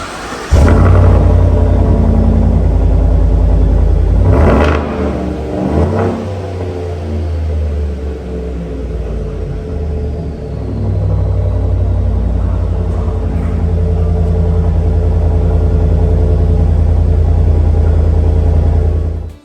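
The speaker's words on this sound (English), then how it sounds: "swapped out the stock muffler for a black widow muffler, a lot less restrictive, and it certainly sounds a lot better" A truck engine fitted with a less restrictive Black Widow muffler in place of the stock one revs loudly and continuously, with a deep rumbling exhaust that surges at the start and again mid-way before settling into a steady idle-like drone.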